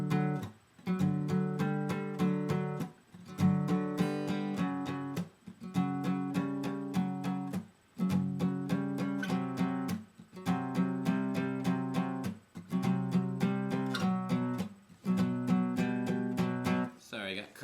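A stringed instrument plays a song alone, with strummed chords in regular bursts separated by brief pauses, close and steady in level.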